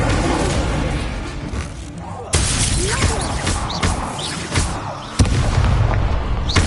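Incendio fire spell blasts cast in the wizarding game Hogwarts Legacy, loud bursting booms and crackling whooshes in quick succession over a dense, busy battle din, with abrupt jumps as new blasts land.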